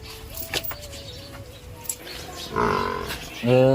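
A buffalo on a farm gives a loud, drawn-out moo near the microphone toward the end. Before it, a calmer stretch of farmyard background carries distant bird calls.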